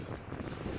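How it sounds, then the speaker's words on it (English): Strong wind buffets and rumbles against the microphone in a brief, steady roar. "it's very windy outside"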